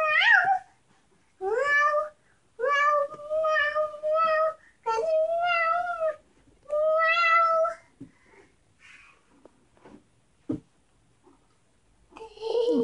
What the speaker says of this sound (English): Is she meowing at us?